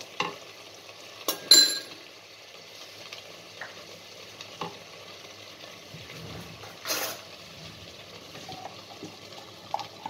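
Thai curry with peanut butter sizzling steadily in a pan while being stirred, with occasional louder scrapes and clinks of the utensil, close and clear with no talk.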